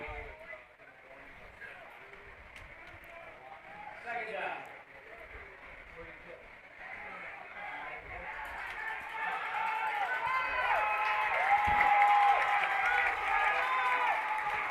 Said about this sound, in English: The crowd livening it up a little bit here